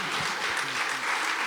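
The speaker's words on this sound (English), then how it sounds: "let's clap for that" An audience at a small chamber gathering claps steadily for a moment. The applause is dense and even, with no talk over it.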